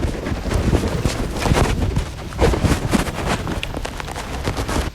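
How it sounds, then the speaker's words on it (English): Wind blowing outdoors on a gusty day, rumbling and buffeting against a phone microphone in irregular surges, loud and close, with no talking. "It is quite windy."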